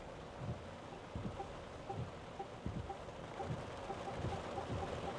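Steady heavy rain drumming on a Denza Z9GT car during a downpour, a dense constant wash with no voices.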